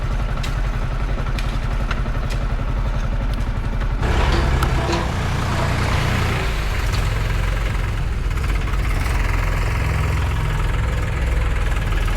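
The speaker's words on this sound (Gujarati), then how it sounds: "ફરતીના ટ્રેક્ટર ચાલુ થઈ ગયા છે." Tractor engines idle with a steady low rumble and chugging pulse, running continuously with no talk, a slight shift in tone partway through.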